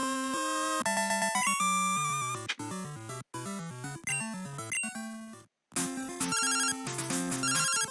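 Pokemon Crystal's in-game phone call ring, a bright chiptune melody of stepped synth tones that repeats in bursts with brief silent gaps, loud and alone with no voices.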